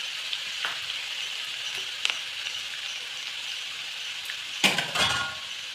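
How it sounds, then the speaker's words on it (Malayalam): Onion and green chilli frying in oil for an Onam sadya ginger curry: a steady close sizzle, with a few utensil clinks and a louder burst of stirring near the end. "ഇനി ഉള്ളി പച്ചമുളകും കൂടെ വറുത്തെടുക്കാം"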